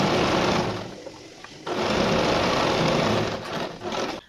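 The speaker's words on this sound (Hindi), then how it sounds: "इलास्टिक को इस तरह से खींचते हुए इसमें भी यहाँ पे सिलाई लगा लेनी है।" A sewing machine runs fast and loud, stitching stretched elastic into a pants waistband, a dense continuous whir that slows briefly, then resumes for a long steady run and eases off at the end.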